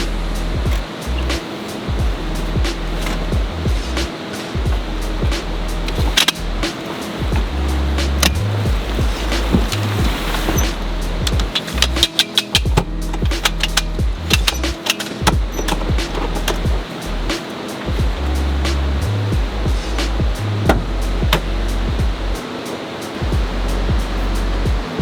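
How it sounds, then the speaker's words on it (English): A fast-flowing river rushes beside a spring campsite, a loud, steady broadband roar of churning water close by, continuous for the whole stretch with no voices over it. "So the river is here, and it is humming right now."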